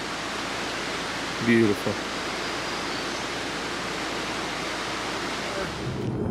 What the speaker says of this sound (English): You can see the river down there.